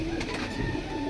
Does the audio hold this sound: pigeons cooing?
yes